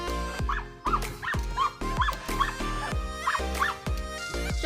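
A puppy yaps in a rapid string of short, high barks and yips, fairly close and loud, with no other sound competing.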